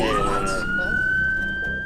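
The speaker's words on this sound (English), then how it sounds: "The crew switch off the sirens." An emergency vehicle siren wails loud and steady at a rescue call, rising to a long sustained tone that holds without pause and has no talk over it.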